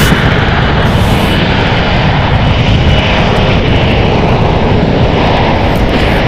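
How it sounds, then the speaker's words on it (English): A Horizon Air passenger plane departs San Francisco International bound for Everett, its engines roaring loud and steady throughout, a broad continuous rumble with no pauses. "Horizon Air Flight 2110 going to Everett"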